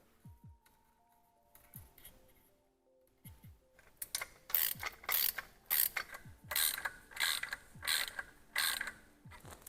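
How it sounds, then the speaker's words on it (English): Ratcheting clicks while the three hub nuts are snugged on the steering wheel of a 1979 Ford Bronco, quiet scattered ticks at first, then a steady run of louder rhythmic ratchet strokes up close. "I just went ahead and snug these 3 nuts up on the hub so that we can get our wheel aligned"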